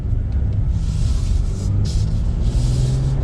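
A 2022 Nissan Frontier SV 4x2 pickup with just over 300 horsepower accelerates gently, giving a steady low engine rumble heard from inside the cab along with road and wind noise.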